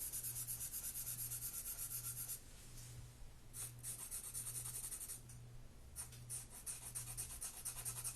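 A charcoal pencil shades on paper in close, soft rubbing strokes, repeated scratchy passes with short pauses between, over a faint low hum.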